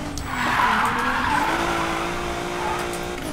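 Tires skid and squeal under braking in the racing video game Need for Speed Payback, a rear-wheel-drive car's sustained screech with engine noise beneath, lasting a few seconds at moderate loudness.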